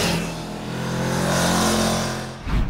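A motorcycle accelerates hard on a race track, its engine note rising and holding a loud, smooth roar close by before cutting off sharply near the end.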